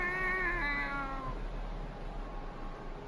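A single long, drawn-out meow from a cat inside a bag, fairly close and clear, fading away over steady background noise.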